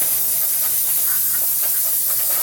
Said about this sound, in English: Carburetor cleaner is good, you know. Spray it up, knock the junk down.